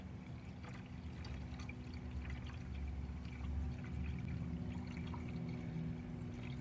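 Coolant water pours steadily out of the radiator of a 2008–2014 Ford Mustang GT during a coolant flush, a continuous close splashing stream over a low mechanical hum, with no talking.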